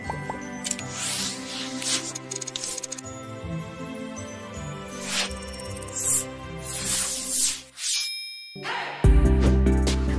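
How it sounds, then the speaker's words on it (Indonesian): A bright, ringing notification bell dings near the end, set against a continuous background music bed, with no speech. "bunyikan lonceng notifikasi"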